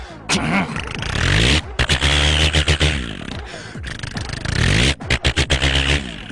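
A man imitates a tractor engine with his mouth, producing choppy, sputtering bursts of buzzing engine-like noise with revving swells and rapid stuttering pulses, close and loud.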